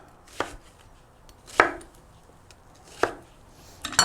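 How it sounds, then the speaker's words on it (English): An 8-inch Damascus chef knife chops roughly through an onion, four separate crisp thunks against a cutting board spaced about a second apart, close and clear with quiet between them and no talking. "I just need this roughly chopped"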